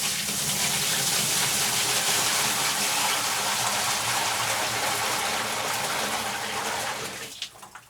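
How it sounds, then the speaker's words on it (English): Liquid from a bucket poured down a slop sink drain while cleaning out a septic system, a steady loud gushing wash lasting about seven seconds before cutting off into a few faint drips and clunks. "just pour it down the drain."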